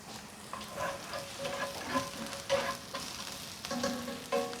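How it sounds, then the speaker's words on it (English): Chopped onion frying in a pan over medium heat for borscht, a steady soft sizzle broken by clinks and scrapes of stirring, close by and moderately quiet, with no voices. "We are going to fry onion for 2 minutes in a middle temperature."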